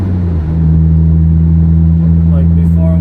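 A U-Haul moving truck's engine runs at the roadside on a 95-degree day after a breakdown, a loud, steady low drone with layered humming tones that holds unbroken throughout.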